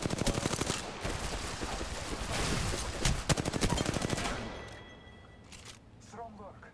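Rapid shotgun and weapon fire in the video game Apex Legends, a dense volley of loud repeated blasts for about four seconds that then fades to quieter game sounds, with a voice talking over it.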